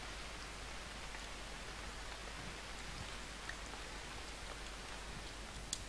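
Rain in the UnReal World survival game, a steady even hiss of falling drops with faint patters on surfaces, continuous and quiet, with no one speaking.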